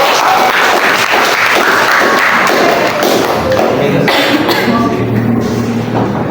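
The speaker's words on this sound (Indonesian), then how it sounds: "Dan Oke, tepuk tangan untuk" At a local history talk show, the audience breaks into applause, a dense, loud wash of clapping that holds steady throughout, with some thumps and faint voices in it.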